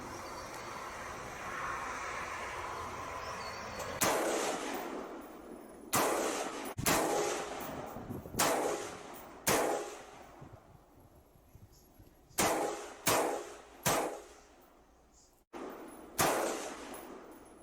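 A pre-ban Colt Sporter Target Model rifle fires about ten loud, sharp gunshots outdoors, spaced irregularly over several seconds, with each crack followed by a short echoing decay.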